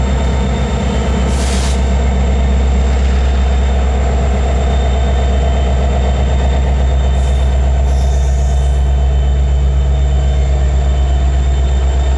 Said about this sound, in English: an empty crude oil train was coming out of a crew change at the adjacent yard office